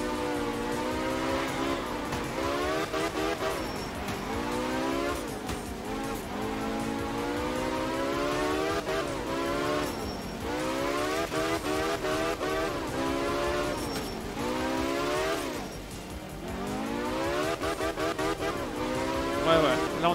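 A Lancia Delta S4 rally car in Art of Rally, its engine revving up and down steadily through gear changes, with a constant loud drone and repeated rising sweeps of pitch.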